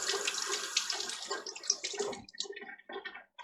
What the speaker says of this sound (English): I'm going to rinse the lime off of this egg.